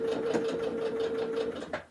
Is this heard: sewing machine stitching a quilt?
yes